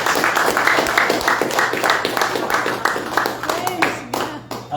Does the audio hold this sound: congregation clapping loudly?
yes